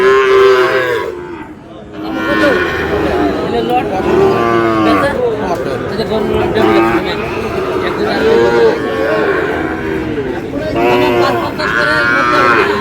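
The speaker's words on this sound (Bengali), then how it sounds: "গরু আছে" Cattle at a livestock market where Sahiwal bull calves are sold moo repeatedly and loudly, several long lowing calls overlapping over a constant crowd murmur and nearby chatter.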